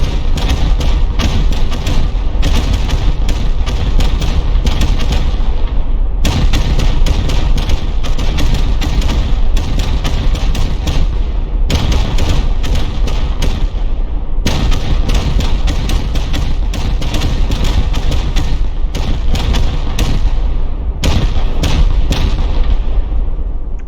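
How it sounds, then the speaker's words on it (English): Dense, continuous barrage of rocket explosions pounding a base in a video game, a loud unbroken roar of booms and thuds with brief dips in the high end, no talk over it. "Fly and send millions of rockets at the base."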